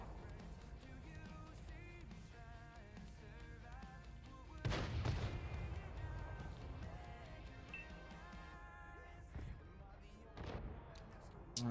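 Tank cannon fire from an AT60 brawl in a competitive World of Tanks match, with a loud blast near the middle, scattered booms and gunfire over a steady battle din and music.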